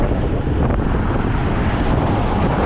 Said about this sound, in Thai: ลมแรงมากวันนี้